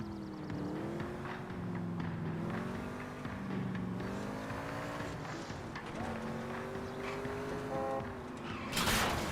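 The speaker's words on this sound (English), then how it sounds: "This car sounds so smooth." A car engine driving in the game L.A. Noire, revving and shifting with rising and falling pitch as the vehicle speeds along, loud and continuous under game sound, with speech mixed in.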